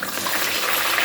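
Water pouring steadily into a bowl of brewed herbal tea to dilute it for watering an orchid, a continuous splashing gush, close and loud, with no voices.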